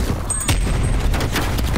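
Gunfire in the video game Call of Duty Cold War hits as a dense, loud volley of rapid shots and booms, with brief voice fragments mixed in.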